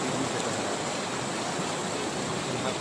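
River water rushes steadily at Baba Dhansar near Katra, a loud continuous broadband roar of flowing current with no pauses and no voices.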